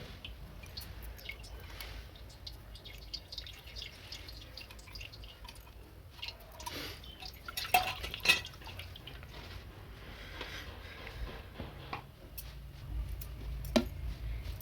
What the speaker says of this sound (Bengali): আমি এখানে নন্দী মহারাজকেও স্নান করে দিলাম অল্প করে।